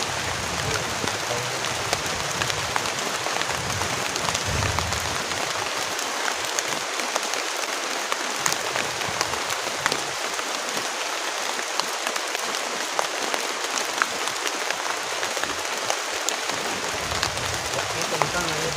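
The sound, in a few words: heavy rain while camping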